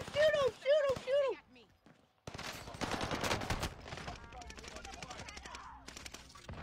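Video game gunfire, with rapid, sharp bursts crackling in clusters under excited, shouting voices, after a brief pause near the start.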